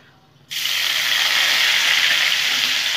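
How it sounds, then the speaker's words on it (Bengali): Gobindobhog rice dropped into hot oil with cumin in a pan, setting off a sudden, loud, steady sizzle that starts abruptly and continues unbroken, close up. "এখন আমি দেখো গোবিন্দভোগ চালটা ভেজে নেব"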